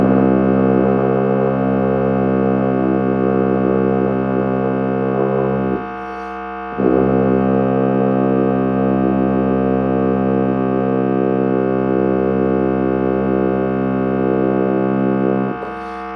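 A tuba plays a low C with valves 1 and 2 pressed, a steady, loud, buzzy sustained tone held alone, broken by a short breath pause partway through before the note resumes.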